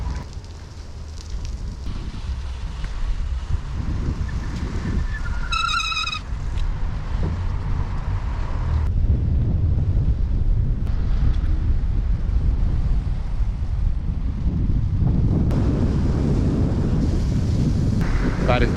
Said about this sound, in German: es hat jetzt halt heute am Morgen schon viel Wind